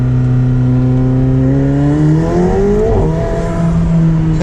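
A turbocharged McLaren 720S Spider accelerates hard, its loud engine note rising steadily in pitch close by, dipping briefly at a gear change around the middle before climbing again, with no talking.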